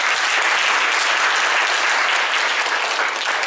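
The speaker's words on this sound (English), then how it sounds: "So a round of applause for them, please." Steady, dense applause from an evening tech meetup audience thanking the event hosts, a continuous wash of many hands clapping at even volume with no talk over it.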